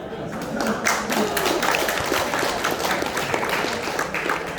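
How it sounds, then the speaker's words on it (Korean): A crowd claps steadily throughout, a dense continuous patter of applause. "박수 한번."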